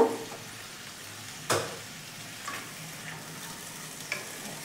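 Spice paste for a rohu fish curry stir-fries in a pan with a continuous soft sizzle, broken by a few sharp scraping strokes from the spatula.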